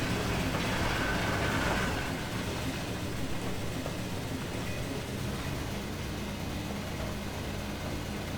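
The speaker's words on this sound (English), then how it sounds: "those chuff sounds are nice" A Willamette geared steam locomotive in Trainz 2019 rolls along at about 6 miles an hour, a dense, steady wash of chuffing and rail noise that is loudest at first and then settles to an even level.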